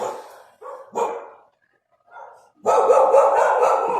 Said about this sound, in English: If the dog had shut up